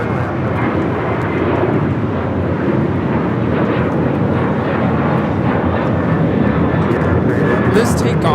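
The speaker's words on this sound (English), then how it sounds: "This takeoff is Alaska Airlines 1374, taking off to Loretto on the 737-900ER" Alaska Airlines Boeing 737-900ER taking off at Los Angeles LAX airport, a loud steady jet engine roar with wind rumble, heard from nearby while a voice talks over it.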